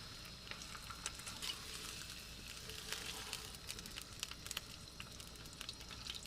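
A pork chop sizzles steadily in a pan on a gas cooker mounted in a vehicle canopy, a continuous faint frying crackle with scattered small pops and no talk.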